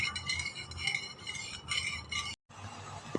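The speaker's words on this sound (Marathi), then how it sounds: "आता मी त्याला चांगली ढवळते. साखर चांगली विरघळली पाहिजे" A spoon stirs sugar into plain water in a bowl for Gujarati-style dhokla, giving close, steady rhythmic clinks and scrapes against the vessel, with a brief break near the end.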